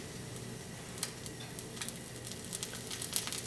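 Eggs frying in a pan with a soft, steady sizzle throughout, broken by a few faint crackles and pops, heard close and alone with no talking.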